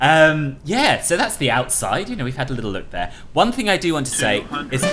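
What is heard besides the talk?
No distinct noise like a dog, phone or traffic.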